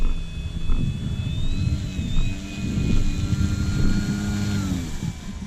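A small electric propeller-driven model airplane comes in to land, its motor droning steadily at a moderate distance with a thin high whine that rises and falls, and wind noise underneath.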